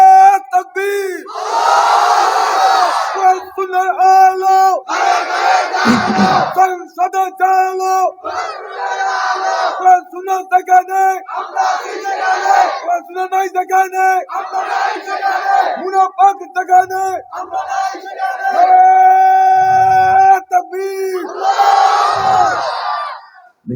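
A large crowd at a Bangla religious gathering shouts the takbir together in loud unison bursts, call-and-response style, repeated several times across the clip.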